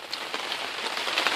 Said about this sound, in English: it's raining a bit out there, in case you can't tell